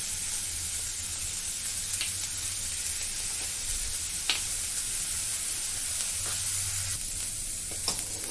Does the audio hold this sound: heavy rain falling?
no